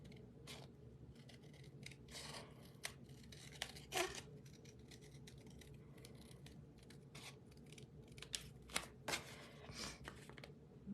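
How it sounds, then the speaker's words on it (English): Scissors trimming the edges of a paper card, faint crisp snips scattered across a quiet room, several quick cuts in short bursts. "And then we'll just trim around the edges."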